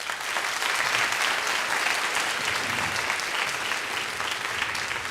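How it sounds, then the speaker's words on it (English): A large audience at a Model UN conference opening ceremony gives sustained, dense applause, a steady wash of clapping that stays level from start to finish. "Clapping is certainly in order for every school"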